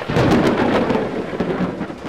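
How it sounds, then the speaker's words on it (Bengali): Thunder rolls through a heavy rainstorm over the haor wetlands of Kishoreganj, a loud, continuous low rumble with rain hiss beneath it and no voices. "বৃষ্টির সঙ্গে শুরু বজ্রপাত, আতঙ্কিত মানুষ।"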